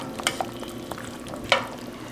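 Cut-up andouille sausage frying in a pan for a Creole chicken dish, a steady low sizzle with a few sharp scraping clicks from stirring and no talk.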